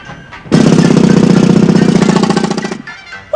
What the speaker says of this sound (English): It's called a pneumatic drill. What a noise.